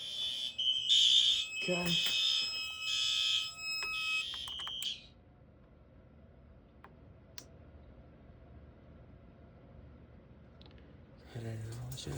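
A fire alarm system sounds during a test, blaring loud repeating horn pulses for about five seconds before stopping, followed by quiet room tone, a brief spoken word, and faint sounds returning at the end.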